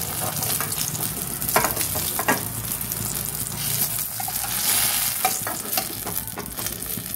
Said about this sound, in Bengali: ওই তেলের মধ্যে আমি অল্প একটু কালো জিরে ফোড়ন দিয়ে দিলাম।